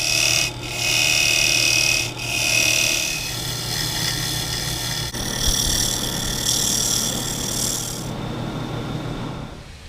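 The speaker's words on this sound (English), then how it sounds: "I took it over to the sander and I took off as much of the extra material as I dared" A sander grinds excess wood off the bottom of a lathe-turned lidded canister, producing a steady close rasping whir with a low motor hum throughout.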